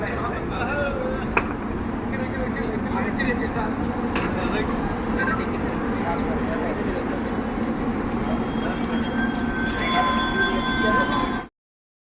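Steady rumble of a train carriage in motion with occasional clanks and squeaks, voices talking underneath throughout until it cuts off.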